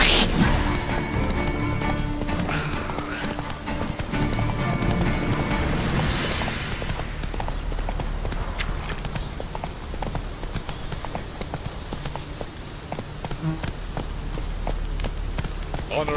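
A horse galloping in The Witcher 3, with fast, rhythmic hoofbeats pounding steadily and loudly over a dense game soundscape, with brief voice lines in the background.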